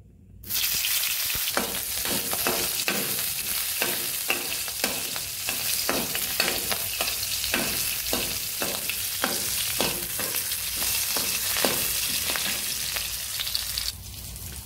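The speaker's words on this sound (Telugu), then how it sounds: "సో ఇప్పుడు ఈ ఆయిల్లో నేనైతే మిర్చి అయితే యాడ్ చేసుకుంటాను." Green chillies fry in hot oil over a low flame, giving a steady close sizzle broken by regular crackling pops and stirring scrapes, continuous until it thins near the end, with no voices.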